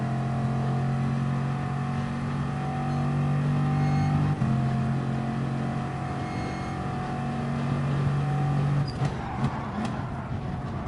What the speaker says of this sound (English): Keep revving this car out, keep forgetting about it all the time.